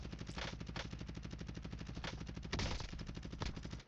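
Kilo assault rifle fire in a first-person shooter game: sustained rapid automatic bursts with a steady mechanical cadence, loud and close, with a heavier impact or explosion partway through and no talking.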